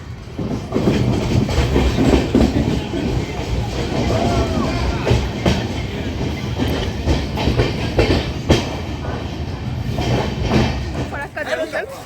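An Amrit Bharat express train rolls into New Farakka Junction, with continuous wheel rumble and clickety-clack heard from on board and people talking over the noise.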